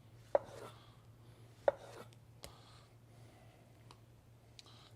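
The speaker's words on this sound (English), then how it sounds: "I'm going to take some orange. Just going to give this some slices" Knife slicing an orange on a cutting board, two sharp chops followed by a few fainter cuts over a steady low hum, no talking.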